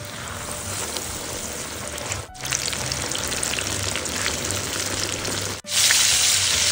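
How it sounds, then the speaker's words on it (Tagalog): Breaded pork chops frying in hot oil give a steady, dense sizzle and crackle that fills the whole stretch, loud and close, with two brief dropouts and no talking. "Start na tayo magprito."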